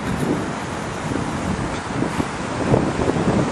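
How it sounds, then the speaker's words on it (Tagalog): Strong wind roars and buffets against the microphone in a constant, loud rush, with no other clear sounds, outdoors in Doha, Qatar. "Grabe! Ang lakas ng hangin."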